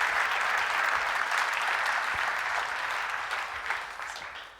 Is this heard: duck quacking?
no